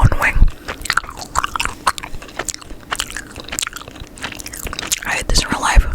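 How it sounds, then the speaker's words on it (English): Gum being chewed with wet, clicky mouth sounds close to the microphone while a person talks over it in an ASMR style, the smacks and crunches coming in quick irregular bursts between and under the speech. "Just like talking while chewing gum is so annoying."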